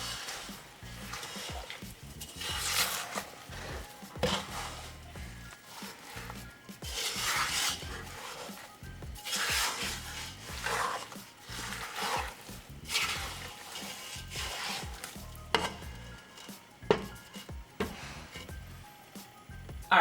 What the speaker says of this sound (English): I'm gonna give this a quick stir